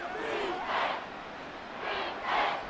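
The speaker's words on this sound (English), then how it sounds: "Well, this crowd is making an impact right now." Stadium crowd in a Madden 24 football simulation of Eagles versus Commanders, a broad roar that swells twice on a third-and-ten play, steady and moderately loud with no talk over it.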